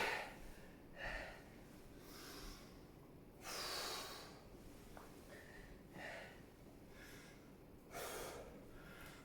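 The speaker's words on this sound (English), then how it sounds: "Big deep breath" A person takes deep breaths during a home karate workout, a series of slow inhales and exhales spaced a couple of seconds apart, quiet and close, with no speech.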